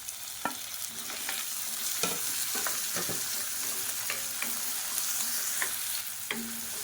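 A medium-sized tomato sautés with onions in a pan for sambar, giving a steady close sizzle broken by repeated scrapes and clinks of a spoon stirring, with no talk.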